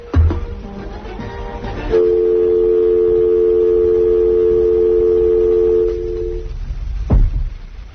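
Telephone being dialed: a few short dial beeps, then a steady dial or ringing tone held for about four seconds, followed by a click.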